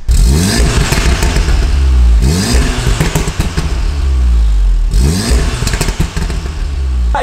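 A Volkswagen Golf R engine revs repeatedly, rising and falling in several bursts, with popping and crackling from the exhaust as each rev drops off, slightly tinny, loud and close.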